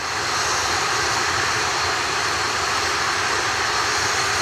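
An Atlas V 531 rocket's RD-180 engine roars during launch on the NROL-101 mission, a loud, unbroken, wide rumble held steady throughout with no voices.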